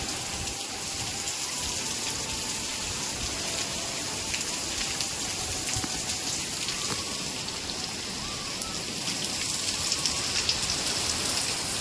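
Heavy rain pouring down in Gujarat amid strong wind, a dense, steady hiss of drops on surfaces that stays loud and even throughout, with no talking.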